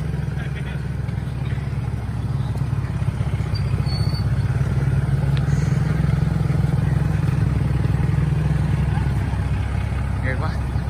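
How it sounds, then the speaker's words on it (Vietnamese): Motorbikes labour up a steep highland slope in Sơn La, their engines droning steadily and continuously at moderate distance beneath a background hum. "Đây, toàn bà con chạy xe máy lên dốc."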